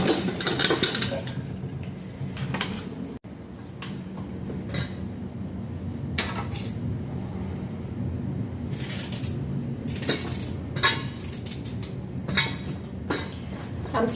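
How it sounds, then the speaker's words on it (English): A knife slices ginger into small pieces on a board, giving a series of crisp close chops at an uneven rhythm over a steady background hiss, with no talk. "I'm slicing the gingers because I cannot put it full of it"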